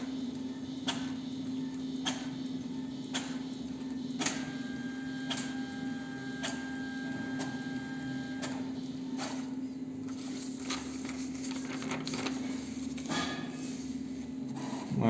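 Brother DCP-T520W inkjet printer making a colour copy, giving a steady motor hum with regular ticking clicks of the print head moving back and forth, close and alone.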